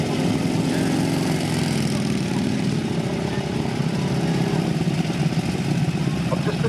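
Royal Enfield military motorcycles, a WD/CO and several M20s, ride past at a military vehicle show, their engines thumping steadily and fairly loud among crowd noise, with a voice announcing over the top.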